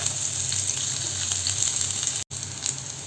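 Small shallots sautéing in coconut oil in a frying pan, a steady close hiss and crackle of frying that runs unbroken apart from a brief dropout near the end.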